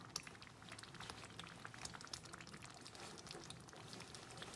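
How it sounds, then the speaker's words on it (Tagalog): Spaghetti sauce bubbles and simmers in a pot, a faint, steady crackle of popping bubbles with no talking. "Ayan na po yung niluluto ko pong sauce ng spaghetti."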